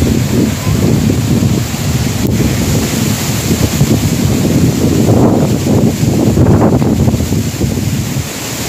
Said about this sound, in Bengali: রীতিমতো ঝড়।